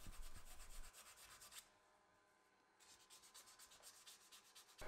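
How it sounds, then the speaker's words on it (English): A homemade bottle opener is filed and sanded by hand to smooth its sharp edges. Bursts of rapid rasping strokes come close and faint, then a pause, then more rubbing strokes. "A little bit of filing and sanding to tidy it up."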